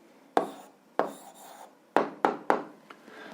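A pen or chalk writes out an answer to an eighth-grade algebra exercise, making several sharp taps, each followed by a short scratchy stroke, close and fairly clear.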